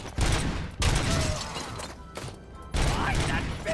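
Gunfire in RoboCop: Rogue City, several loud bursts of shooting broken by short pauses, close and punchy, with bits of game voice in between.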